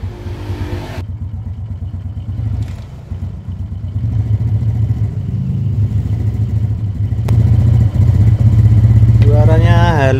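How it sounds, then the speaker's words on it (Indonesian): A Honda Karisma motorcycle with a Shogun SP exhaust runs nearby with a steady, throbbing mid-pitched engine note that builds slightly toward the end, while someone talks over it. "Lanjut kita coba nyalakan, kita dengarkan suara mesinnya"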